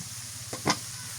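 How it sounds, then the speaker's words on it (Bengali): Tomatoes sautéing with chilli powder in a pan for a village-style beef lung and cauliflower curry, a steady soft sizzle with two brief stirring scrapes close by. "টমেটোটা ভালো করে কষাই নিই"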